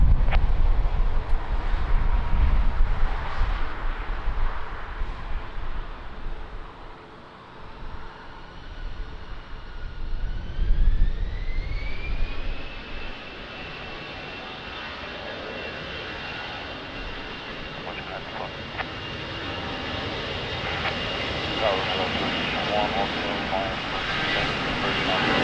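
Airplane taking off from runway 20 at Lisbon Airport in rainy weather: a loud engine roar builds into a rising whine that settles to a steady high tone, with wind and rumble throughout.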